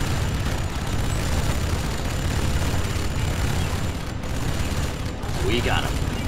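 Gunfire from the real-time strategy game Command & Conquer 3 Tiberium Wars: dense, continuous volleys and rumbling blasts blended into a steady loud wash, with brief unit voice lines near the end.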